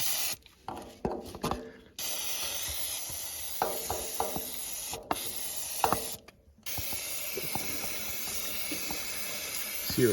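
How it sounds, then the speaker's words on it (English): Short bursts of penetrating oil sprayed from an aerosol can into the stuck cylinders of a 1942 John Deere Model B engine, hissing in several brief spurts with pauses and some clanking between them, close by. "Use some of my spray stuff to clean it up in there."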